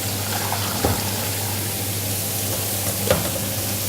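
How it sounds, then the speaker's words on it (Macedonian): Cold water pours into a pot of hollow beef bones for blanching, a steady hissing stream with a couple of brief knocks, close and fairly loud, with no voices. "Значи, ќе додадам вода"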